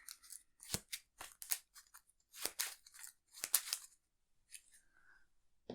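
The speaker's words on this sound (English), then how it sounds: "Shuffle the deck." Arkham Horror card game deck being shuffled by hand, a series of quick, crisp riffling and snapping bursts, close and fairly quiet, with short pauses between them and a faint tone near the end.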